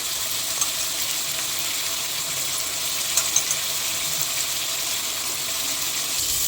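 Steady, close sizzling hiss of tomatoes, curry leaves and coriander sautéing in a pan for Hyderabadi dum chicken biryani, continuous throughout with a few small pops and no talk.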